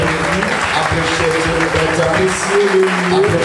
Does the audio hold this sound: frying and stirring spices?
no